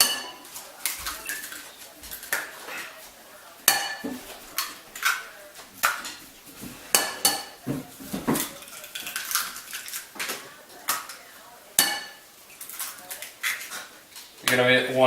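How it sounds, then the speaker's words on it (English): Eggs whisked in a bowl, four of them, producing a run of rapid metallic clinks and scrapes against the bowl in uneven bursts, with a voice talking at times over the clatter. "you're going to whisk 4 eggs"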